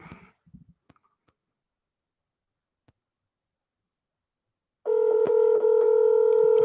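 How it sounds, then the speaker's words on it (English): A phone call is dialed: a few faint clicks and taps, then a loud, steady dial tone sounds for the last couple of seconds. "let me just ring him up"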